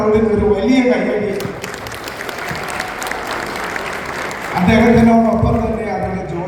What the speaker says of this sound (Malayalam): വളരെ ഹാർഡ് വർക്കിംഗ് ആയിട്ടുള്ള ദേവൻ പാലോടിന് ഒരു വലിയ കൈയടി